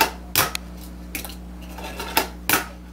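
A Tech Deck fingerboard clacking onto a hard surface after a hard flip, a few sharp separate clicks and taps spaced irregularly, close and alone.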